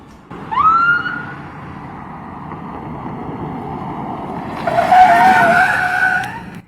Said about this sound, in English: as soon as I heard the sirens chirp and the tires squeal